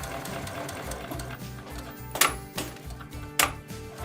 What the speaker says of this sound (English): Next over to the sewing machine, and we're going to stitch all around the edges.